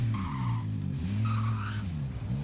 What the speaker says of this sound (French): je prends la voiture pour me barrer